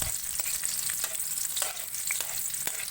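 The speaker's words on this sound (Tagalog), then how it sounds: "Ayan, nilagay ko na yung sibuyas." Onions sizzle and crackle steadily in a hot pan with oil, a dense continuous frying hiss with small pops throughout and no one speaking.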